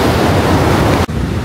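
Waves at the rocky white sand beach of Pantai Menganti in Kebumen, a loud, continuous rushing wash of surf close by, mixed with wind buffeting, with no voices.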